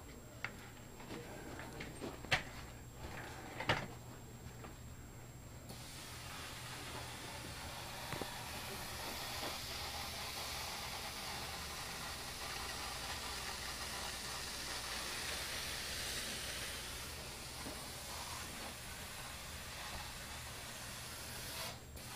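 A steam cleaner running on a mattress gives a steady broadband hiss that continues for more than twenty seconds, with a few faint clicks near the start.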